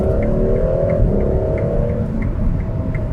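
A Ferrari 12Cilindri with a naturally aspirated V12 accelerates hard, its engine a loud, dense, continuous roar heard from inside the car without letting up.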